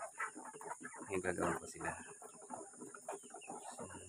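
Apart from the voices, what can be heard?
free-range chickens clucking on a farm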